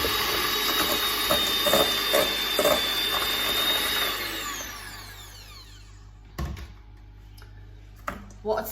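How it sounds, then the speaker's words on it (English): Butter and sugar whisked with an electric hand mixer for a gluten-free raspberry, lemon and yogurt tea loaf: a steady, close motor whir that runs for several seconds, then stops, followed by a few light knocks and clinks. "I'm just going to whisk this now until it's fluffy and all creamed together"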